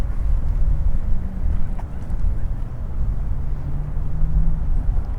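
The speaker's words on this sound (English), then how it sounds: "It's a little windy out here" Wind gusts across the microphone outdoors at Papago Park in Tempe, making a loud, continuous low buffeting roar that fills the whole stretch with no voices.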